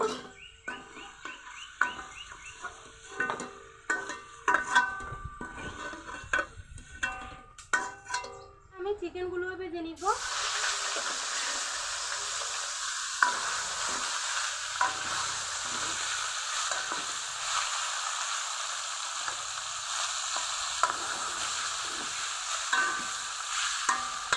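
Potatoes frying in a pan for biryani, a steady sizzle with stirring and scraping of a utensil, preceded by clattering kitchen handling; the frying hiss stays continuous and close.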